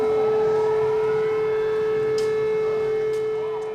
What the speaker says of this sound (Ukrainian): Ось і під час нашої зйомки ми чуємо гул сирен.